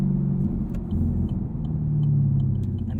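A sports car engine revs steadily under manual rev matching, a loud, close, continuous low rumble with slight rises in pitch and no talking.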